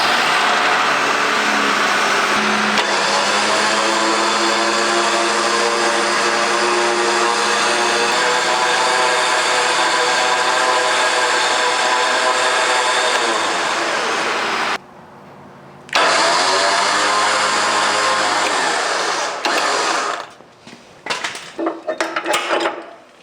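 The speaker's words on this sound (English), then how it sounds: "the initial line that we spool on, we just want to get about 10 wraps onto the drum" WARN Zeon 10s winch on a Jeep JL Wrangler front bumper, spooling line onto its drum with a loud steady electric motor whine that pauses briefly, resumes, then stops in a few uneven bursts.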